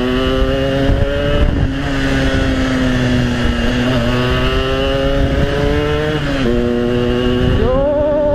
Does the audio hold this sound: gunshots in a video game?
no